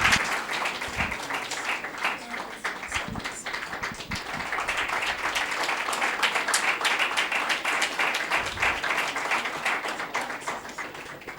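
Applause from an audience at a seminary certificate ceremony as a recipient comes forward, dense steady clapping filling the room throughout with a little background murmur.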